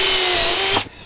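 A power drill with a countersink bit whines loudly up close while boring into wood, then cuts off abruptly, leaving a brief quiet tail.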